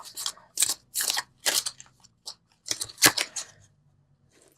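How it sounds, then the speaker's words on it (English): Tarot cards are shuffled and drawn close up, making crisp papery riffles and snaps in short uneven bursts with brief pauses between, with no voices. "So let's pull the universal love cards."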